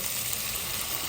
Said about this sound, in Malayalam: കൊഞ്ച് വേകാനുള്ള വെള്ളം നമ്മൾ ഒഴിച്ചു കൊടുത്തിട്ടുണ്ട്